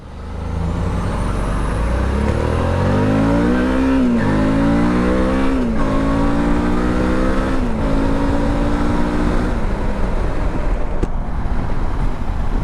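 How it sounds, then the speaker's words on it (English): A DL 650 motorcycle engine on a cold, rainy summer day is revved several times, each rise in pitch falling back in a sequence of strong, close throttle blips over a steady running rumble. "That's a DL 650, and I didn't redline her or nothing. I just gave her some gas."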